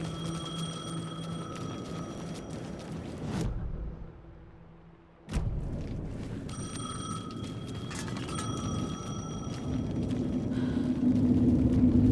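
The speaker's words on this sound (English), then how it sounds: "payphone was ringing" A payphone in Alan Wake 2 rings in repeated metallic bursts over a low rumbling ambience, breaking off briefly into near silence partway through before the ringing and background return, growing louder toward the end.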